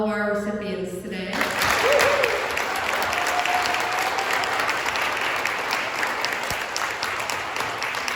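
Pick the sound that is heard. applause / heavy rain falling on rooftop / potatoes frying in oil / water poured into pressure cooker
applause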